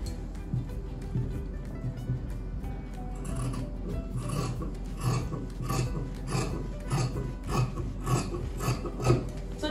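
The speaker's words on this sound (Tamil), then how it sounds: "இப்போ இந்த கர்வ்குள்ளே நான் கட் பண்ண போகிறேன்." Scissors snip repeatedly through fabric along a marked curve while cutting a circle skirt, giving a steady rhythm of close, soft rasping cuts over a constant low background hum.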